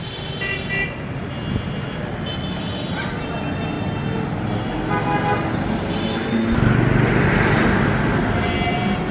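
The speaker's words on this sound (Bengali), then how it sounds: "প্রচুর জ্যাম" Heavy road traffic in a jam in Bangladesh hums with engines, and several car horns toot in short bursts and longer blasts, while a louder vehicle passes close near the end.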